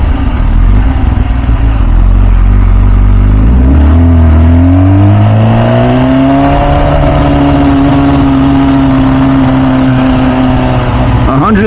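A 2005 MV Agusta F4 Tamburini motorcycle's engine roars loud and close while riding, with steady tone then rising pitch as it accelerates through the rev range.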